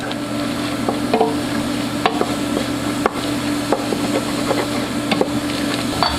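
Curry powder and oregano are stirred into melted butter in a pot for mulligatawny soup, with a low steady sizzle under frequent sharp spoon clicks and scrapes against the pot.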